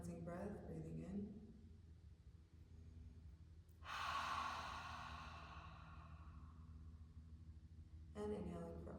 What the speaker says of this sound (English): Now beginning with our cleansing breath